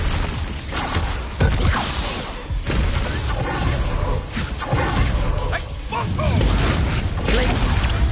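Spell-combat blasts and booms from Hogwarts Legacy on PS5, with whooshes and crashing impacts layered densely over continuous game noise and voice lines, loud and busy throughout.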